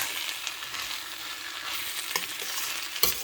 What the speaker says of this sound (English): I'm gonna nicely saute this. It's loaded with vegetables.